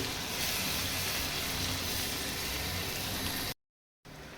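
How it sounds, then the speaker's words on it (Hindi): Masala sizzles in hot oil for a black chickpea curry, a steady close hiss that runs unbroken, then drops out briefly before returning. "2 से 3 मिनट के लिए इसको और अच्छी तरह से भूनेंगे।"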